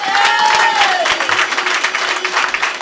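A church congregation applauds loudly and steadily, dense clapping filling the room with scattered cheers and a high sustained whistle-like tone early on.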